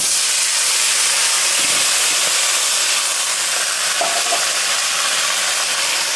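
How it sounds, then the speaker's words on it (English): Water thrown into a hot frying pan splatters and steams, giving a loud, continuous broadband hiss and sizzle that stays steady throughout, with faint clinks of stirring underneath. "you throw a little water and watch it's going to splatter"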